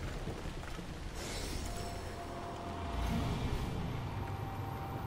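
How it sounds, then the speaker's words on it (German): Thunderstorm in the video game Assassin's Creed Odyssey: steady broadband rain hiss with a low rumble of thunder swelling midway, loud and continuous throughout. "so ein cooles Gewitter ist auch mal schön"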